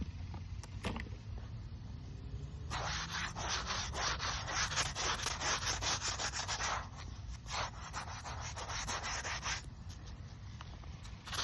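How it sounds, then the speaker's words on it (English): A toothbrush with soap scrubs the carved lettering of an old headstone, giving rapid, close, rhythmic scratchy strokes in bursts with short pauses and no talk. "I'm going to take a toothbrush to the words and put some more soap on it and go from here and give it another scrub"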